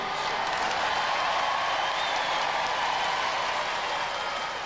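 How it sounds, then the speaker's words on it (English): Studio audience applauding at the Robot Wars Extreme Warriors robot combat show: a steady, dense wash of clapping that holds evenly from start to finish with no voices over it. "Let's have a nice round of applause for both these teams."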